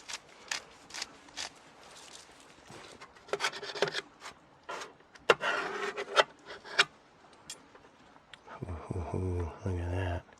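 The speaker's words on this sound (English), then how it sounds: "let's go ahead and just grind away on this whole pepper grinder" A whole-peppercorn grinder is twisted in short, gritty rasping bursts, close and fairly quiet, with brief pauses between turns, and a voice speaks at the end.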